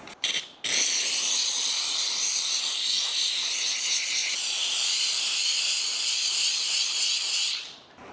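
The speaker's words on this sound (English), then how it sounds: "So this steam cleaner, I think this is gonna be" A steam cleaner blasts a steady, loud high-pitched hiss against the wheel of a high-mileage truck, starting after a couple of short bursts and running continuously for about seven seconds before tapering off.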